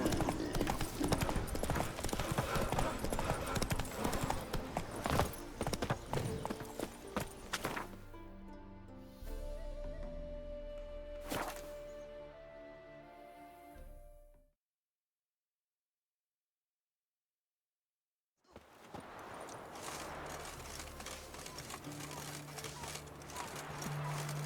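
Hooves clip-clop quickly and closely for the first several seconds in The Witcher 3, then give way to music before silence and renewed hoofbeats and ambience at the end.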